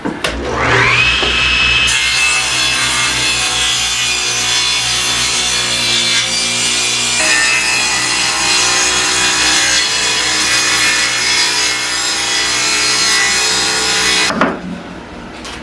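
A power saw spins up and cuts steadily through walnut wood for table legs, a loud sustained whine and rasp lasting about fourteen seconds before winding down, with no talking.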